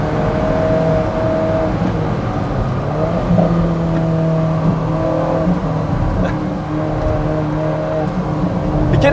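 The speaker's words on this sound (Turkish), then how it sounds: "ben şu anda aracı manuel moda getiriyorum ve start finish düzlüğünde gazlamaya başlıyorum." A turbocharged car accelerates hard along a race track's start-finish straight in manual mode, its engine a loud, steady drone with rising tones heard close from inside.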